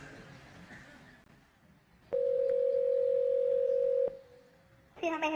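Outgoing call to a restaurant: a single steady ringback tone lasts about two seconds over faint room noise, then a voice begins to answer.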